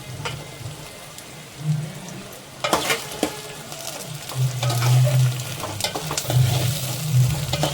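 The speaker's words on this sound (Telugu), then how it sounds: "ఇప్పుడైతే బెండకాయ ముక్కలు వేసాడు" Okra pieces sizzle and crackle in a hot pan while a fish curry is being cooked with mango, a steady close frying hiss with louder bursts and occasional stirring clinks.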